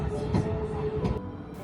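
A Hakone mountain railway train running through the mountains, a steady rumble with rail clatter and a sustained whine, moderately close with a couple of louder knocks.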